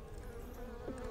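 Honeybees buzz around an open Layens horizontal hive during a hive split, a faint, continuous droning hum with one insect passing close and briefly louder near the end.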